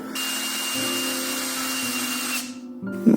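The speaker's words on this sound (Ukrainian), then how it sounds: "Далі засверлюємо меншим діаметром. В нашому випадку 2 мм, щоб закручувати шуруп." Power drill boring a 2 mm pilot hole in ash wood, a steady close whine that winds down near the end, followed by a brief rattle.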